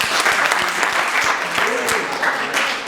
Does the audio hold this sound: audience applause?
yes